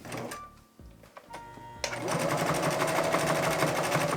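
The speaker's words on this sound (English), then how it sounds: "attach these two ends together in the sewing machine" A serger sewing machine starts up after some quiet handling noises, then runs steadily with a rapid, buzzing stitch rhythm close by.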